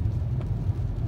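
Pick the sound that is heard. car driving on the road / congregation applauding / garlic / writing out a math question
car driving on the road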